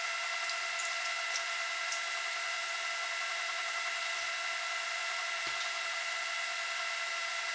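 A magnetic stirrer spins a stir bar in an iodine solution with aluminum foil added, producing a continuous, steady motor whir and hum with faint occasional ticks. The sound is close and unbroken.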